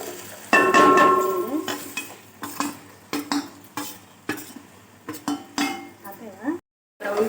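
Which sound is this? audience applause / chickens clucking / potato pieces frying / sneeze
potato pieces frying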